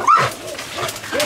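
Backyard dogs barking and yipping at rats, a few quick sharp barks and whimpers heard up close over a short moment.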